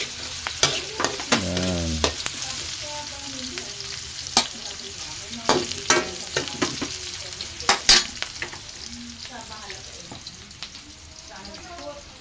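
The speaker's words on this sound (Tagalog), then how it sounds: "So yun yung bawang sibuyas natin. Gigisa." Garlic and onion sautéing in a pan for pancit bihon, a steady sizzle with scattered spoon scrapes and stirring clinks, under occasional nearby talk.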